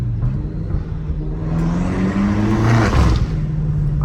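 Straight-piped BMW M5 Competition with exhaust pops switched off, engine revving up with a deep droning exhaust note that rises and swells, then drops off without crackles.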